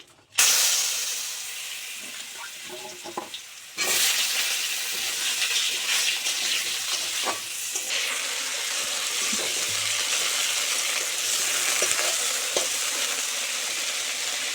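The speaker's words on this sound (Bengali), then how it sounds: "ভাজা তেলে আলুগুলো ছেড়ে দেবো" Potato pieces dropped into hot oil after fish frying erupt into a loud, steady sizzle, with a brief burst and then continuous crackling hiss filling the clip near the pan.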